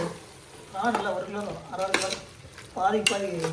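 A spoon stirs prawn masala with curd, chili and coriander powder in a pan, making a soft scraping, squelching sound with a light sizzle, close by. Voices talk over part of it.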